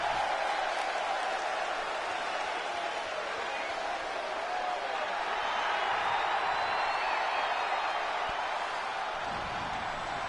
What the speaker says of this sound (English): Crowd on their feet for Naomi, the three-time SmackDown Women's Champion